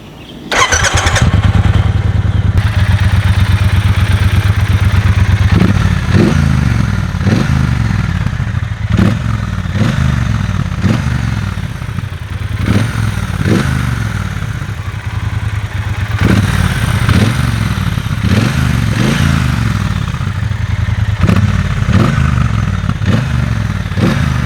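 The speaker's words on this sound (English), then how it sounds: "So essentially you just switch on the key from here, and it does a self check. You hold the clutch in and then you start." A Triumph Bonneville Speedmaster 1200 motorcycle cranks, fires up and settles into a loud, steady idle, its deep twin-cylinder rumble pulsing evenly with occasional mechanical clatter and thumps, heard close with no talking.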